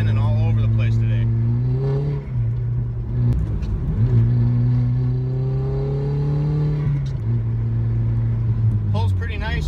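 A first-generation Audi TT Quattro with 225 horsepower accelerates on a slick road, its engine note loud and close, rising steadily through the gears with short dips at the shifts.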